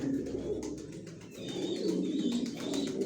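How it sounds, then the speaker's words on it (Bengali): Several young racer pigeons coo in low, overlapping bursts, with faint chirps above, fairly close and continuous. "লংয়ের কবুতর"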